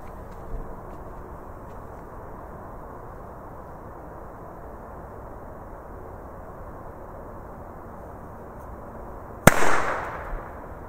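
A Böller firecracker with a grey fuse goes off outdoors as a single sharp bang followed by a brief rumbling echo, after several seconds of quiet background noise.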